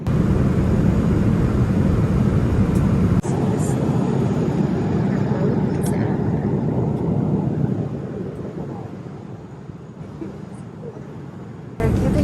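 Airplane cabin noise during a flight: a loud, steady broadband roar fills the space throughout, dipping slightly midway with faint clinks, while a voice may speak softly underneath.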